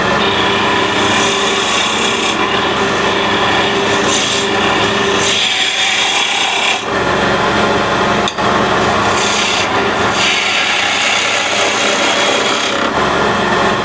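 A wood lathe spins a small piece of wood at about 1900 rpm, giving a loud, continuous close whirring rush with a steady low hum and brief swells of rubbing or scraping texture throughout.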